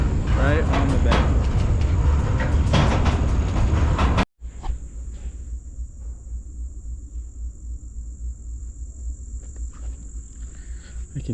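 A westbound freight train rumbles past on a busy line, heard from a stopped freight train on a bend. A loud, low clatter fills the first few seconds, then gives way to a quieter hum with a thin, steady whine and faint chirps.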